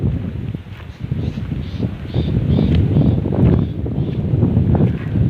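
Strong wind blows steadily across a hilltop village, a loud continuous rushing roar that swells toward the end, with no voices.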